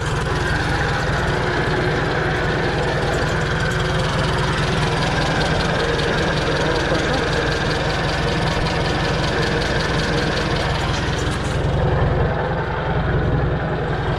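A Farmall Super C tractor engine runs steadily and loudly, with a constant low rumble and a dense mechanical chatter that never lets up, close by and with no voices.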